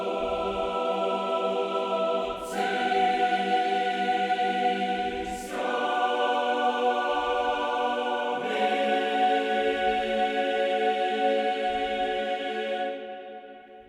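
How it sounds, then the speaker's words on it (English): A choir in a Cobra Kai Season 3 score cue is processed with blended reverbs for a long decay. Its chords are held steadily, shift a few times, and then thin out into a lingering wash at the end. "When the choir stops, I want to hear that nice long decay, typically."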